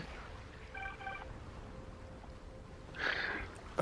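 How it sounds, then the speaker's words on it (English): A mobile phone text message notification tone plays as a brief series of bright electronic beeps, then a louder chirp near the end, over a steady low background hum. "Who has that ringtone right now? I know that ringtone. That text tone."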